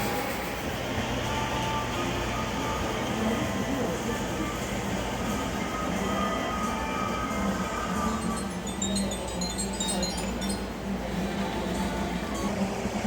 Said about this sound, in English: There goes a streetcar, taking riders out to the circus